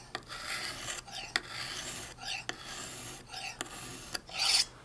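A knife edge is drawn across a hone in repeated strokes on alternating sides to remove a small burr. It gives a series of short, close rasping scrapes in a steady rhythm, each about a second apart, with a brighter final stroke and no talking.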